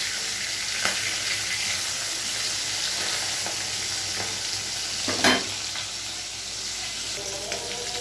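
Pieces of small tengra fish fry in hot oil, giving a steady, close hiss with intermittent crackles and a louder spatter midway. No talk is heard.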